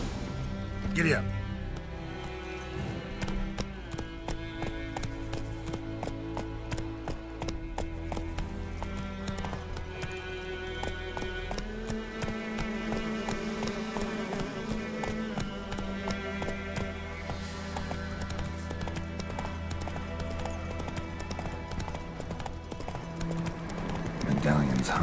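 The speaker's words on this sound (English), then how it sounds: "I'll ready our horses." Horse hooves clip-clop steadily in the video game The Witcher 3, a rhythmic trot carried under game music and character voices speaking throughout.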